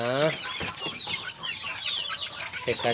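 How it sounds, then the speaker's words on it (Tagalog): Chickens and turkeys, a Rhode Island cross flock, clucking and murmuring close by in a steady busy chorus, with a faint voice briefly at the start. "Yan po yung ating mga chick and turkey guys."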